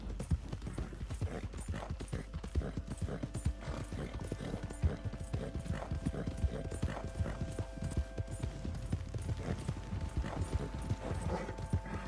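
Horse hooves clip-clop steadily in Red Dead Redemption 2, a quick, even rhythm of sharp hoofbeats over a low rumble with faint mechanical tones and an occasional whinny.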